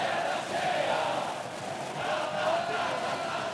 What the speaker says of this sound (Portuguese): E a torcida tá animada aqui, ó.